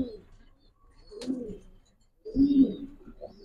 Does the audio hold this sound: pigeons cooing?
yes